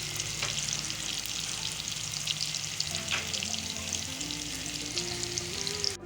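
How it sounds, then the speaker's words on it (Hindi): Sliced onions sizzle and fry steadily in a pan, a constant close crackle with occasional light stirring, softening without browning. "हल्का सा प्याज को सॉफ्ट करना है, कलर इसको नहीं देना"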